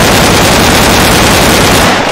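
Animated soldiers firing guns in a rapid, dense volley of gunfire, loud and continuous for about two seconds before cutting off.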